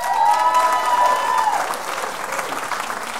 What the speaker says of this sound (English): Will you please give it up for him?